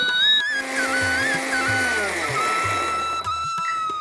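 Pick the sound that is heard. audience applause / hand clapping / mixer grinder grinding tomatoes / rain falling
mixer grinder grinding tomatoes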